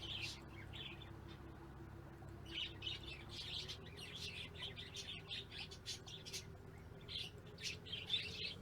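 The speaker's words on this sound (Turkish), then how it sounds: "Tamam kuşlar da geldi." Birds chirp in short repeated bursts throughout a pet shop simulation game scene, bright tweets layered over a steady low ambient hum with no talking.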